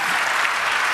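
Congregation applauding inside a church, a dense, steady wash of many hands clapping at close range, with no voices over it.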